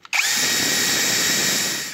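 After a brief click, an INGCO CDLI205582E 55 Nm cordless drill spins up quickly and runs at a steady, high-pitched whine at its second speed.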